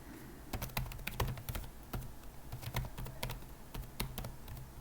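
Rapid clicking keystrokes on a computer keyboard as an email address is typed, steady uneven taps close by with no talking.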